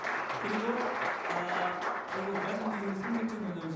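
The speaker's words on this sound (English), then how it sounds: "give a big round of applause for the opening" Light audience applause at the opening of a financial crimes forum, fairly faint, with a voice speaking over the clapping throughout.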